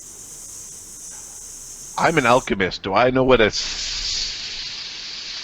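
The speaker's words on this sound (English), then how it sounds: "It's the sound of a fuse." A fizzing, hissing burning fuse in a game setting, a steady broadband hiss running throughout, briefly cut off while someone talks over it, then resuming loud and continuous.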